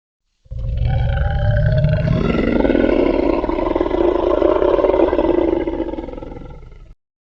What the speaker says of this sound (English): the witch heard a roar that was scary and loud